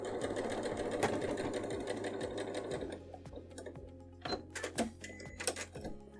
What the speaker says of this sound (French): on va coudre ici.